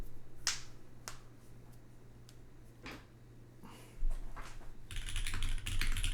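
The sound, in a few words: typing on Pangea fullsize mechanical keyboard, Nixie switches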